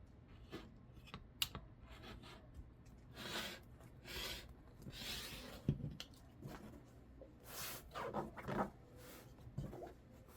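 Fabric being cut into 9-inch strips from a yard of material, with repeated crisp scissor snips and rasping slides of the blades through cloth, close and quiet in an irregular rhythm.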